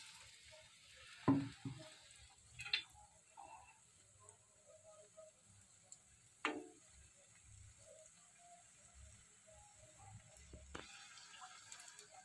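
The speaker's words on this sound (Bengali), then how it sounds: "এবার বেগুনিগুলো আমি ভেজে নেব।" Battered eggplant fritters (beguni) fry in hot oil with a soft, continuous sizzle and a few brief louder crackles and clinks, faint and close.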